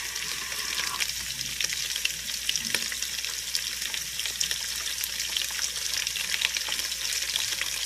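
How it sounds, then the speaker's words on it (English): Onion with a pinch of salt sizzles steadily in a hot pan while a spatula stirs it, with soft scraping scattered through the constant crackle and no voices. "And stir until the onion is softened and translucent"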